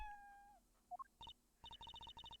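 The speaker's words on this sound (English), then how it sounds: "Hey, a kitty cat!" A cat meows repeatedly in the Apollo Justice video game, a quick run of short, similar synthesized cries in steady rhythm following a few earlier tonal cues, moderately loud and with no talk over it.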